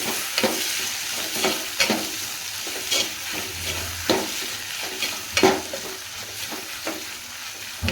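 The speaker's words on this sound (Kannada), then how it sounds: "ಈಗ ಇವಿಷ್ಟು ಪೂರ್ತಿ ನಾನು ಬೇಳೆನ ಹಾಕ್ತೀನಿ. ಈಗ ಇಷ್ಟು ಮಾಡಿದ್ರೆ ಇದು ಸ್ವಲ್ಪ ಬೇಯಕ್ಕೆ ಬಿಡಂಬ್ರಿ." Lentils for udhar bele palya, a South Indian dal stir-fry, sizzle and fry in a pan on a gas stove while a spoon scrapes and stirs them in repeated strokes, close and clear with no talking.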